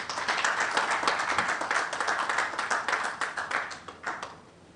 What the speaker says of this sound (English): another round of applause for our Managing Director